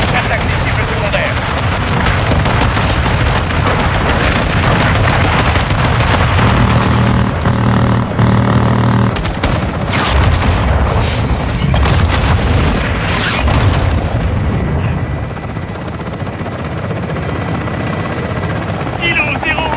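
Air support strike in a Call of Duty–style shooter: heavy rumbling explosions and booming blasts with helicopter or aircraft roar, loud and continuous, tapering toward the end, with faint voice chatter.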